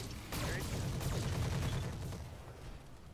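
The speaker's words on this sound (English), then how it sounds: "we'll fire everything into it" Weapons fire in the Roguetech video game: a quick burst of overlapping shots and blasts in under three seconds, a sharp crack at the start and then a dense rumbling volley, fairly quiet in the mix.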